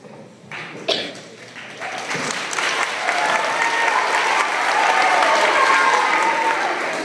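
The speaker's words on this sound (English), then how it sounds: "Let's give your third grade class a round of applause, please." An audience applauds a third grade class at an afternoon school performance, the clapping building from a scattered start into steady, sustained applause that fills the room.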